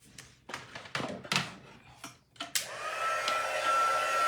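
A few clicks and handling knocks come first, then a heat gun starts up and blows hot air steadily over a scrapbook embellishment, a rising whine that holds alone and close.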